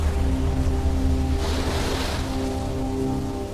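Ocean waves at high tide on a Pacific island coast in Fiji, a loud continuous roar of surf with a wave washing in and hissing up the shore midway.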